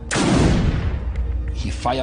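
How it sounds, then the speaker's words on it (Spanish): A gunshot fired into the air: one loud, sharp blast right at the start, trailing into a long rumbling echo that decays over about two seconds, with a faint extra sound near the end. "Disparó una bala al aire y me hizo valiente."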